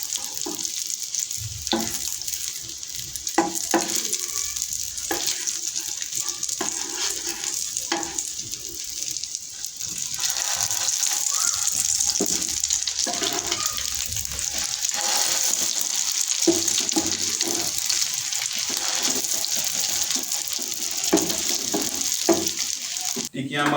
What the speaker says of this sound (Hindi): तो ये इसी तरीके से मैं सारी टिक्कियाँ तैयार करूँगा, पलट कर अच्छे तरीके से सुनहरी करूँगा